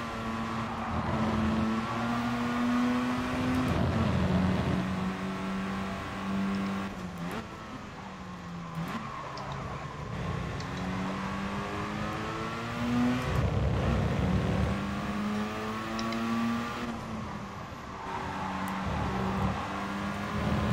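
Race car engines in Gran Turismo Sport during a Spec7 series final race, several cars revving and shifting with rising and falling pitch sweeps, a loud continuous drone with no talking.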